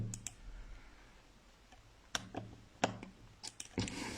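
Computer mouse clicks saving a file on a PC, a few sharp, close clicks spaced irregularly, one early and several later in the stretch, over low room hum.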